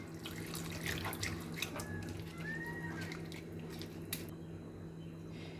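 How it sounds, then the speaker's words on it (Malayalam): Hot water poured into a pan of Kashmiri green chicken curry masala, a steady running, splashing stream lasting throughout with faint clinks, fairly close and alone without talk. "ചൂടുവെള്ളമാണ് ഞാൻ ഒഴിക്കുന്നത്"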